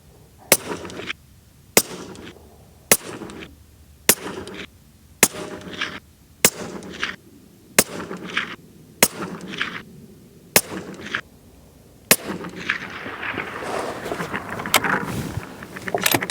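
Rifle shots fired while fireforming reloaded brass: nine sharp, loud outdoor reports at steady intervals of about a second and a half, each followed by a short echo, then one last shot and a rushing, noisy tail.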